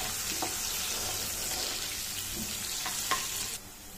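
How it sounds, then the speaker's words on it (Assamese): Potatoes with turmeric powder sizzle steadily as they brown in a hot pan, with a few light clinks of stirring; the frying hiss drops off suddenly near the end. "আলুখিনি মই ব্ৰাউন কৰি ভাজিম"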